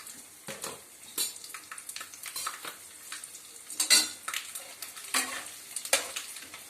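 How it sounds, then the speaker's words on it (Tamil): Mustard seeds, chana dal and urad dal fry in hot oil in a pan, giving a faint, steady crackle broken by several sharper spatters and pops, with no one speaking. "அது பொரிஞ்சுட்டு இருக்கும் போதே இங்கே பாருங்க, கடலை பருப்பு, உளுத்தம் பருப்பு அதை போட்டுக்கிறேன்"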